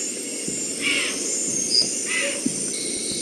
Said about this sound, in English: Deer alarms sound in the distance.